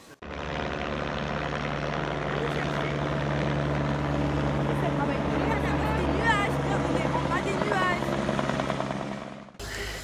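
A helicopter flies over Mafate on Réunion, its steady rotor and engine roar loud and sustained throughout before cutting off abruptly near the end.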